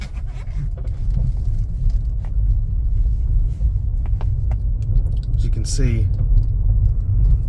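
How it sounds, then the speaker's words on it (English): Inside a Chevy Volt Premier on the move, steady low road rumble and tire noise fill the cabin, while someone talks over it throughout. "the only noise you hear is the road noise itself"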